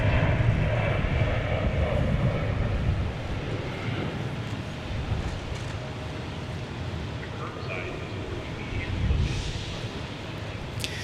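An airliner in Oneworld livery takes off at Seattle-Tacoma International Airport with a loud, steady engine roar that rumbles throughout and swells slightly toward the end, heard outdoors with light wind noise.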